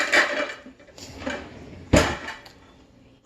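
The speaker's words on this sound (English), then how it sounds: "So I'm gonna use this bigger pan that I have." A large cooking pan is handled on a stovetop, giving several loud metallic clanks and knocks at intervals, with quieter shuffling between them.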